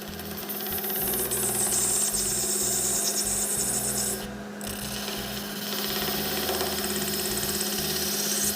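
Lathe tool cutting into the bottom of a resin shaving brush blank, giving a steady, close rasping scrape over the motor hum, with a brief pause midway before the cutting resumes.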